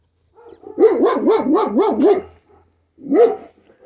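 A dog barks five times in quick succession, then pauses and gives one more bark, close and loud.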